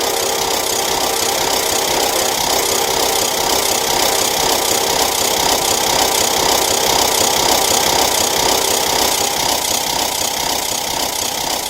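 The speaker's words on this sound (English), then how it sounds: "the chugging sounds were completely loud than before" A steam locomotive in a video game chugs with a steady, loud mechanical drone that continues without pause, dense and even throughout.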